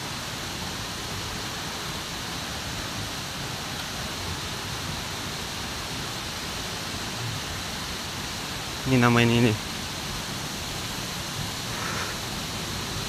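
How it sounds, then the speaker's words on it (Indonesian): Steady, broad rushing roar of the Sindang Gile waterfall in Lombok fills the whole span from nearby, with a short burst of a voice speaking over it partway through. "Air terjun Sindang Gile."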